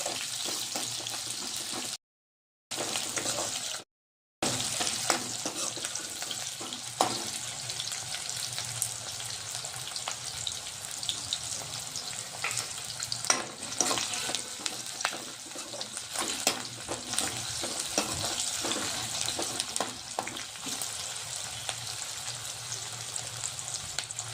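Onions fry with salt in a pan, giving a soft, steady sizzle with occasional clicks and stirring taps, interrupted by two brief gaps of silence.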